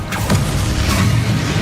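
An Accio summoning spell cast in Hogwarts Legacy gives off a steady whooshing, mechanical pull with a couple of quick sharp onsets near the start, sustained and fairly loud throughout its short length.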